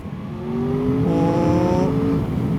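An Aprilia Tuono V4 Factory motorcycle engine rises steadily in pitch as it revs hard, a loud sustained whine climbing for about a second before easing off, with no voices.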